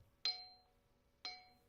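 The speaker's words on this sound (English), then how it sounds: "Bronze bell." A bronze bell is struck twice, about a second apart. Each strike gives a bright, clear ring that fades slowly, close up and with nothing else over it.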